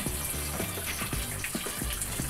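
A strong stream of tap water pours steadily into a basin for hand-washing laundry with laundry soap, gushing continuously and close, with no talk.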